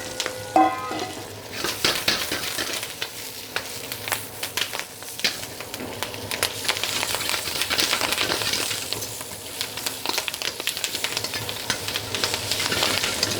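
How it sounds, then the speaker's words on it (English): Greens with their stems being stir-fried in a hot pan for pad see ew, a steady loud sizzle and frying hiss with intermittent scraping and stirring clatter throughout, no talking. "after my stems have cooked a little bit, I'll put the rest of my leaves in."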